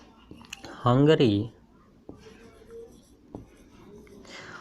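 Writing on a board during a Hindi-language grammar class gives faint, intermittent scratches and taps in a quiet room, interrupted by a short burst of a voice speaking.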